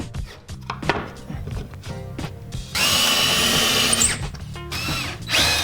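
Power drill driving screws into wooden desk supports fixed to a board on a wall, with short whirring bursts early, then a long sustained high-pitched drilling run, close and loud.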